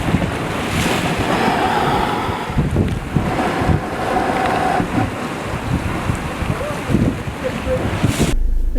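Ocean waves surge and swash against the rocky coast at Boca do Inferno, Cascais, a loud rolling roar mixed with heavy wind buffeting the microphone, rising and falling in slow swells.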